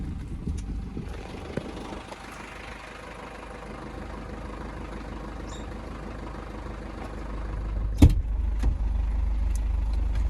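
A camper van on a quiet road in Tasmania's western wilds drives off, its engine a steady low rumble throughout, with a thump and slightly louder engine noise near the end.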